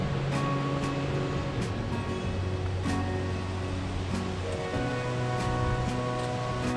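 Water from the Banias (Hermon) spring at the Golan Heights border below Mount Hermon, a continuous, even rush that stays steady at moderate loudness, with a low tonal hum running underneath.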